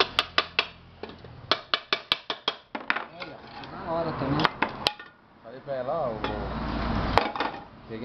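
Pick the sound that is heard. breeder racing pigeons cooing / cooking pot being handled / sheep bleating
cooking pot being handled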